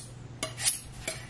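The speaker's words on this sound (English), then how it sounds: "my job is chopping onions" A knife chops onions on a board in a home kitchen, giving a few sparse, sharp taps, quiet and alone with no talking.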